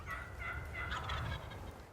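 A wild turkey gobbles during a spring hunt, a distant, rolling call heard over low background rumble with no talking.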